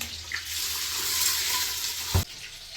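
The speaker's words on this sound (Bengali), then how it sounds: "মিক্স ডাল, ডালটা একটু ধুয়ে নিই" Water sloshes and splashes steadily in a bowl as mixed lentils are rinsed by hand in a village kitchen, ending with a brief louder pour or splash.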